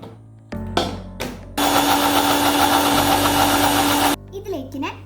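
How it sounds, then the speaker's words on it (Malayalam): An electric kitchen blender whirs loudly and steadily for a few seconds while blending chopped banana, starting and stopping abruptly, with someone talking and brief handling clatter before and after. "ഇത് നമുക്ക് നന്നായിട്ട് അടിച്ചെടുക്കാം"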